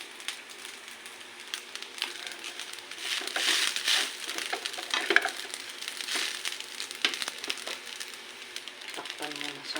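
Rice fries in a pan with a steady, mid-level sizzle broken by scraping stirs and crackles, while a voice talks over it.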